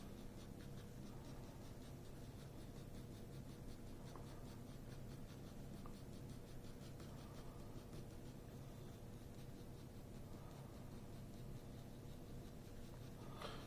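Ebony graphite pencil scratching and rubbing across paper while shading dark patches of an animal's fur, a steady close, quiet scribbling texture with no talking.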